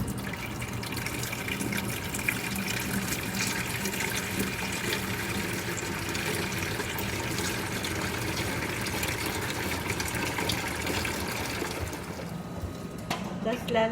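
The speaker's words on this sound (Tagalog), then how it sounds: "Kaya ito, lalagyan natin ito ng tubig." Water pours steadily and continuously into the water basin of a Rainbow vacuum cleaner, a close, even rushing stream that fills nearly the whole stretch before tapering off at the end.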